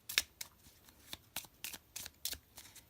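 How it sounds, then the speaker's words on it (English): A small deck of Lenormand cards is shuffled by hand close up, giving about eight short, crisp riffling flicks spread over a few seconds in a quiet room. "a little shuffle, shuffle"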